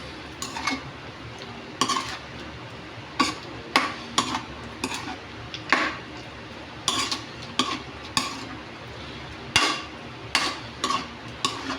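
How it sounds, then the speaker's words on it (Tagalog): Spicy adobo is stirred in a cooking pan, a utensil scraping and clinking against the metal in repeated strokes over a low, steady simmer, with no talk. "Haluin natin."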